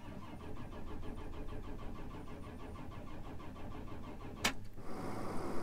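A car that has run out of fuel keeps cranking without catching, a steady rhythmic churn near and moderately loud, then a sharp click near the end followed by a low hum.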